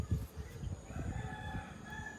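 Chickens and chicks in a village yard give faint clucks and a distant rooster crow over low background noise.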